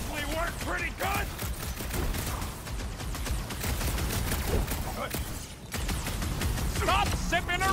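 Rapid bursts of gunfire crackle almost without pause during combat in the Guardians of the Galaxy video game, loud and dense, with brief character voices breaking through now and then.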